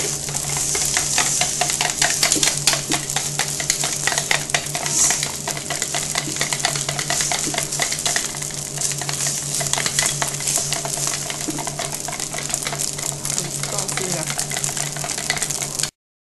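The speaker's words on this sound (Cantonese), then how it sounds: "跟住再攪勻佢。" Egg mixture for omelette rice is beaten in a bowl: a rapid, steady clatter of utensil against the bowl, close and fairly loud, continuing without pause for the whole stretch.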